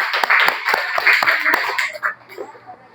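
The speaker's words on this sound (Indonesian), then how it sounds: "tepuk tangan untuk kelompok 1" Classroom clapping for a student group, a burst of sharp, close hand claps lasting about two seconds before fading out, with voices talking underneath.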